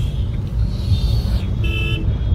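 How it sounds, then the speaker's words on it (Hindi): A traffic jam on a road in India, with a constant low rumble of idling engines and car horns sounding in short bursts, one longer and one brief, against the dense roadway noise. "अभी ट्रैफिक जैम इतना ज्यादा लग गया है"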